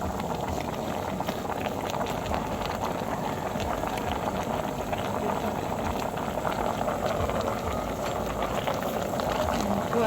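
Cassava leaves cook in coconut milk in a pot, giving a steady, even bubbling simmer that stays constant throughout with no talking.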